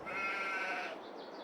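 A sheep in Farming Simulator 22 gives one drawn-out, wavering bleat for about a second, fairly close, before it fades into quiet ambience.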